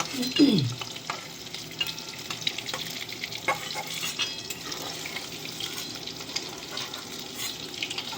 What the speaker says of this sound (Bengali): মুঠাগুলো এরকম লাল লাল করে ভেজে নিয়েছি